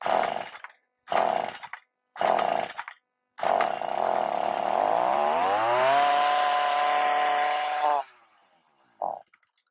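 A Stihl tiller cultivator's small engine gives three short sputtering bursts, then catches and runs, revving up to a steady high-pitched drone for several seconds before cutting off, followed by a faint brief sound.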